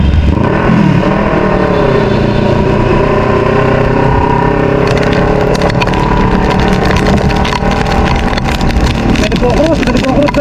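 A motorcycle engine drones steadily and loudly while the bike crosses flood water on a street in Marikina during a typhoon, with constant splashing and rushing water over the whole stretch and voices talking.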